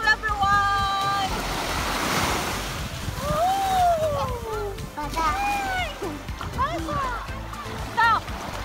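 Sea waves wash and splash at a beach in Batangas, a steady rush of surf with wind buffeting the microphone while children and adults talk and call out over it.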